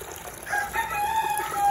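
Onagadori long-tailed chickens are being caught for tail washing, and one gives a drawn-out, tonal clucking call. The call is moderately close and rises over a quiet background of water, with no talking.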